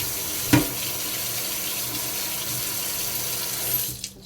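A kitchen tap runs steadily as a smoothie cup is rinsed beneath it, a close, full, constant rush of water with a brief splash near the start before the flow cuts off at the end.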